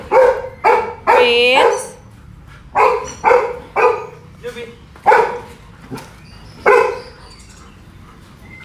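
A pet dog barks and yips in sharp, close bursts of several barks with short gaps between them, while people talk over and between the barks.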